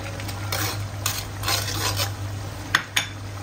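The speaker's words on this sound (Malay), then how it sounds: "tumisan kita ni sudah pecah minyak. Kita masukkan bawang dan cili merah," Onion and red chili stirred into hot oil in a pan for sambal, a steady soft sizzle under scraping and stirring, with a couple of sharp utensil knocks against the pan near the end.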